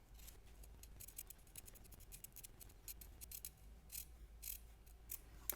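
Scissors cut down the middle of a thick elastic band in a quick series of quiet, close, crisp snips with faint mechanical clicks between them.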